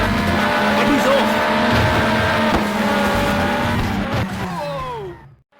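Race cars roar past with tire squeal and skidding in the PS1 racing game Le Mans 24 Hours, a loud, dense engine drone with rising and falling pitch sweeps that fades out at the end.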